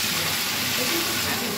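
Broth hits frying crab curry with a loud, steady, close sizzle and hiss that fills the whole moment without letting up.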